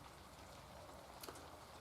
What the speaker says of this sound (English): it's really raining again now